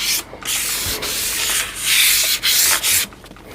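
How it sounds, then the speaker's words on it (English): Hand buffing of a semi-hollow jazz guitar's finish with a 2000-grit sanding pad, giving steady close-up scratchy rubbing strokes in a continuous rhythm with brief pauses between passes. "At this point, I'm just buffing. I'm not actually removing much material at all."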